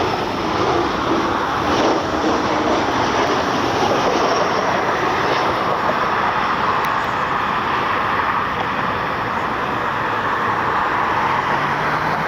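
An inbound airliner arriving at Cleveland airport makes a loud, steady, broadband jet roar that holds for the whole stretch, heard from nearby with no voices.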